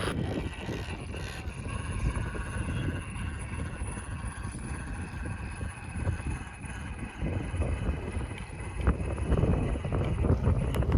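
Wind buffeting a microphone on a Friday night off-road trail run, a steady low roar with gusty swells that grows stronger toward the end, close and fairly loud, alone with no talk.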